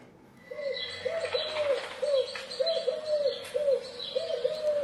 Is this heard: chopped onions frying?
no